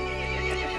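Horse whinny in the video game Resident Evil Village, a single loud, close neigh filling the whole short moment with no talk.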